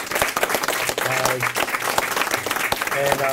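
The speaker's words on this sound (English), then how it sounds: "let's give a round of applause for the boss" An audience at a school award event applauds the superintendent, with brisk, close clapping and distinct individual claps, while voices and a few cheers carry over the applause.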